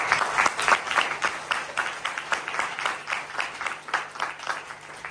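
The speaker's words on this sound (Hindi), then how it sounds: "क्या बात है, जोरदार तालियां।" Sustained applause from a large crowd, dense rhythmic clapping that holds steady throughout without any talking over it.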